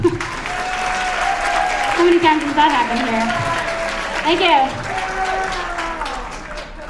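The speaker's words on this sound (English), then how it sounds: "You wanna applaud that part of the poem?" An audience applauds a poem read aloud during a school Writers Week event: steady, full clapping that lasts throughout while the reader keeps talking over it.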